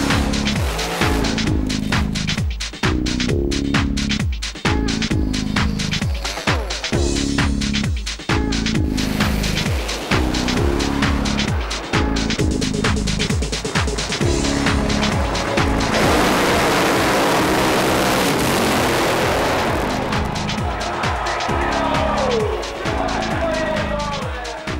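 Race cars at a drag racing event held during a motorcycle rally in England, loud and continuous with repeated engine roars and tyre squeal close by, and a burst of heavy smoky skidding noise midway.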